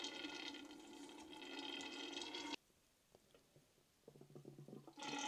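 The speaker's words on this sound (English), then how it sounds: "put the jar that you're filling onto the floor, or lower, and it will literally just siphon away" Red wine siphoning from a raised vessel into a carboy set on the floor, a steady loud rush of liquid filling for a few seconds, then a quieter gap with faint drips and trickles before the flow surges back.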